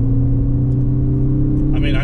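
A Ford Focus ST turbo petrol engine accelerates with a loud, steady, close-up drone under a voice, and a brief hiss at the end that could be boost noise.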